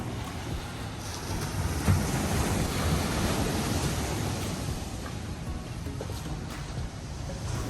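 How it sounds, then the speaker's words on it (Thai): A strong night wind blows at a seaside resort, with a steady broadband roar of wind and surf that is constant and fairly loud, with no voices. "ลมแรงมาก"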